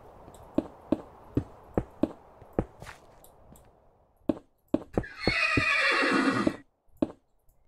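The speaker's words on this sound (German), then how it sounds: "Da lacht das Pferd, meine Güte." A Minecraft horse clip-clops in sharp, evenly spaced hoof knocks, then lets out a loud, drawn-out whinny before a final couple of steps.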